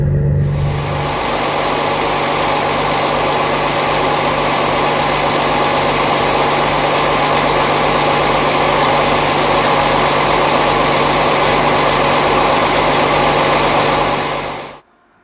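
Boat engine idling steadily in the engine room of a river cruiser on the Norfolk Broads, a loud continuous rumble with a low hum that holds throughout and cuts off at the end.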